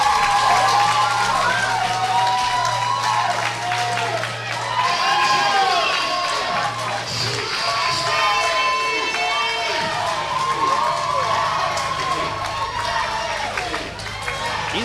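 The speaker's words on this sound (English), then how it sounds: "He's got a whole cheering section in one corner." A wrestling crowd cheers and shouts for the wrestler Travesty after a chokeslam win, loud and continuous with whoops and scattered applause, a commentator talking over it.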